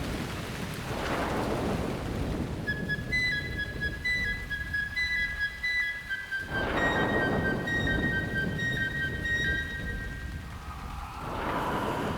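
A stormy night thunderstorm with rain falling, a heavy rain wash broken by two loud thunder rumbles, with a thin whistling or ringing tone running through the middle.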